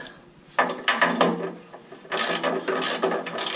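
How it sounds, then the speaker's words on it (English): A ratchet turning a 15mm socket slackens the exhaust clamps on a rear silencer of a Jaguar F-Type V6 S AWD, making close, loud bursts of rapid clicking in two separate runs. "Now it's just a case of slacking them with a 15mm socket."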